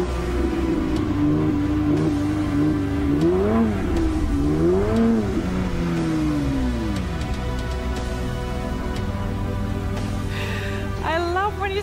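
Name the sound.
Porsche 911 GT3 race car engine revving while driving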